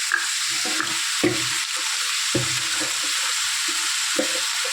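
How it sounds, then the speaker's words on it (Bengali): Potato, pointed gourd and fish roe fry with turmeric in a pan, a loud, steady hissing sizzle close by with a few dull knocks and scrapes from stirring. "হলুদও দিয়ে দিলাম, ভালো করে ভেজে নেব।"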